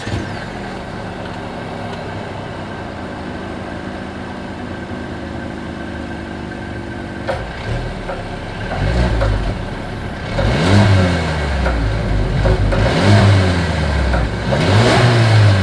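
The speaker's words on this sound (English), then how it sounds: "As always, here is that exhaust clip." Dual chrome-tipped exhaust of a 2020 Mercedes-Benz CLA 250 revving up close, a steady idle rumble broken by several sharp throttle blips that swell and fall away, growing louder toward the end.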